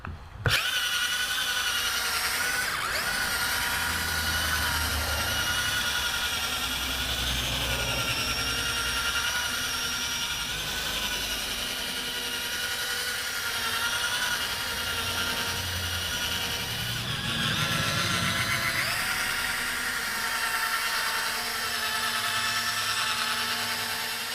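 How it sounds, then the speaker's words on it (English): A drill brush agitates carpet cleaning solution into floor mats, giving a continuous steady whir of motor with scrubbing texture that is loud and constant throughout. "Now I'm going to take my drill brush here."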